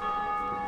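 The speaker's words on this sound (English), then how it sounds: "Wait, you rang the bell? Yeah, I rang it again." A bell rung in the video game Dark Souls II gives a single sustained metallic tone with bright ringing overtones, heard alone and close.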